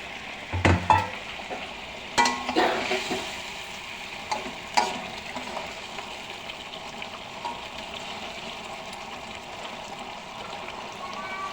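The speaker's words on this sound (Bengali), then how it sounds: "ঝোল ফুটে গেছে, এবার ভাজা রাখা ট্যাংরা মাছগুলো দিয়ে দিব।" Fried tengra fish going into a boiling curry, a few thuds and splashy clatters early on, then a soft steady bubbling simmer that fades to a faint background hiss, close and without talk.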